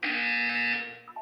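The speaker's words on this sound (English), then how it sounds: "When you hear the buzzer, look down at the floor." A buzzer from the video game Portal 2 sounds as one steady, loud electronic tone held for about a second, then cut short by a brief fading tail.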